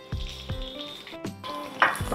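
Mustard seeds with chana dal and urad dal sizzle and crackle in hot oil during tempering, with sharp close bursts of spitting and pops that come several times over a steady fry.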